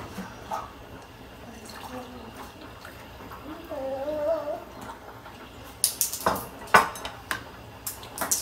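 Liquid is poured from one cup into another, with soft trickling and gurgling, then clinks and taps of cups and a utensil against dishes close by; a few quiet background voices are audible.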